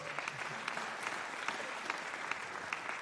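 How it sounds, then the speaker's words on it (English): Audience clapping at a panel discussion: a quiet, even spread of many hands applauding for a few seconds, heard from a distance with a few sharper individual claps standing out. "So you guys can clap for him."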